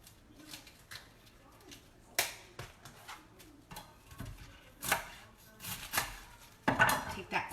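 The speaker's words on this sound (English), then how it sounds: "What I'm gonna do is I'm gonna cut the core out" A knife cuts the core out of a quartered cabbage on a cutting board, giving irregular clicks, taps and scraping knocks of blade on wood, close and fairly quiet, with a few sharper clacks.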